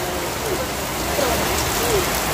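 Steady rain pours down on a roadside stop during a trip to Dhaka, a continuous dense hiss of falling drops heard close and evenly throughout, with a few faint vocal sounds under it.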